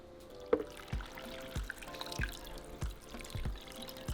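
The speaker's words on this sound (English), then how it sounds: "cover them with water" Water poured into a pot over cut carrots and potatoes, a soft running trickle broken by a few knocks and drips, close by and fairly quiet with no talk.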